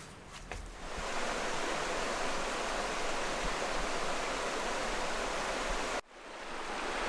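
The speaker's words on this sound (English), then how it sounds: "Figured I'd come down and enjoy the West Stony Creek a little bit." West Stony Creek in the Adirondacks flows past a lean-to campsite, a steady, close rush of water that fills the whole stretch and breaks off briefly near the end.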